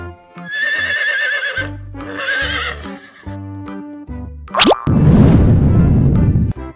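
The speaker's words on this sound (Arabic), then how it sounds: "حصان." A horse whinnies twice in high, shaky neighs, set over a bouncy children's game backing with boing and plop effects, ending in a burst of broadband noise.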